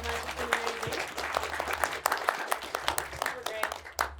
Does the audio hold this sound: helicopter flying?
no